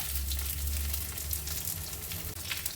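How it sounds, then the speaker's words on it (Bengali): Black cumin seeds sizzle steadily in hot oil as tempering for a Bele fish curry, a close, continuous crackling fry with no talk. "মাছটাতে প্রথমেই আমি ফোড়নে দিলাম কালো জিরে"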